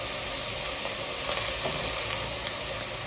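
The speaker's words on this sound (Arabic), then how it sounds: "نقلي شويه هذيك الدواره باش تجي بنينه" Lamb tripe (dowara) frying with tomato paste, spices and garlic, a dense, steady sizzle close up with faint stirring scrapes, loud and continuous with no talk.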